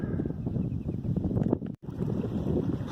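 Wind buffets the microphone on a late winter walk, a steady loud rushing roar with gusting swells and one sudden brief dropout near the middle.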